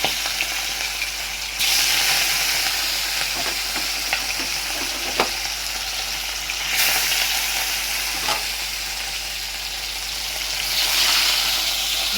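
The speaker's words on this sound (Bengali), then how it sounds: "রুই মাছটা আমি ভাজা বসিয়ে দিলাম।" Pieces of rohu fish fry in very hot oil, making a loud, continuous sizzle close by. The hiss swells in bursts and is broken by a few sharp pops and clinks.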